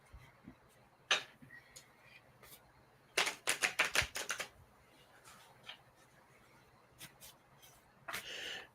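Tarot cards being shuffled by hand: scattered crisp riffles and taps, with a quick burst of clicking flutters in the middle and a few softer snaps near the end, close and quiet with no talk.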